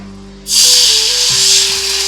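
Water splashed into a hot pan of tempering bursts into a loud, steady hiss that starts suddenly and keeps sizzling, over a low background hum.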